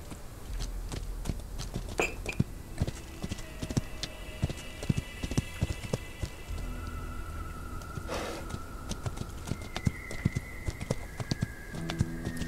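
Pony hooves clip-clopping in a steady, busy rhythm that runs throughout, close and fairly loud, with occasional creaks and a brief whinny-like tone midway.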